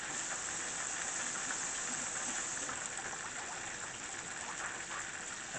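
Chicken frying in hot oil and bubbling over gives a steady, loud, even hissing sizzle close up, unbroken for the whole stretch, with no voices.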